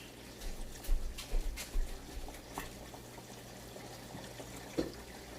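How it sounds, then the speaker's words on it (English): Water being drained off cooked food for shrimp fried rice, splashing and gurgling in uneven bursts at first, then settling to a faint trickle, close by in a kitchen. "Let me drain all this water off because I don't want that."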